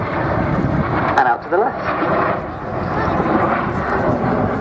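Vintage Folland Gnat jets flying in formation at an air display roar steadily overhead as a broad engine rush, with a commentator talking over the noise.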